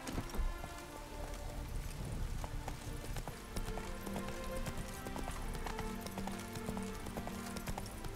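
Steady horse hooves clip-clopping in a continuous trotting rhythm in the video game The Witcher 3: Wild Hunt, close by, with a soft rain-like patter underneath.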